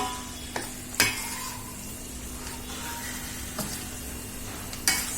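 Homemade mango pickle mixture stirred in a pan, a low steady sizzle and hiss broken by a few sharp spoon scrapes and knocks against the metal, close by and fairly quiet.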